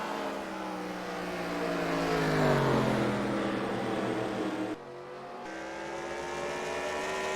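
Modified race cars roar around a dirt oval, engines revving loud and steady with rising and falling pitch as the pack passes, one car's note sweeping past up close before a brief drop in level.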